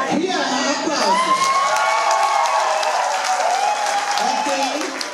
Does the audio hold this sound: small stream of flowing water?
no